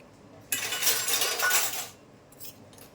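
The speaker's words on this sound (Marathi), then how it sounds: "आता मी याला जरा विस्कनी हलवून घेते" Dhokla batter whisked by hand in a bowl, a brisk metallic clinking and scraping burst of about a second and a half, close and fairly loud, followed by a few lighter taps.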